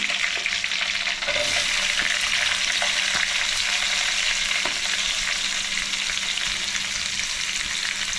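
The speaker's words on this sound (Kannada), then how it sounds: "ಕಾಳು ಮೆಣಸು, ಈರುಳ್ಳಿ ಹಾಕ್ತಾಯಿದ್ದೀನಿ." Black pepper and chopped onion frying in a pan for palak chicken, a steady loud sizzle with occasional stirring scrapes, alone and without talk.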